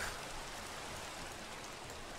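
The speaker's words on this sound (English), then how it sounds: "Raining? Again. Is it ever not?" Rain falls steadily in the video game Forgecraft, an even, dense hiss that stays constant and alone throughout.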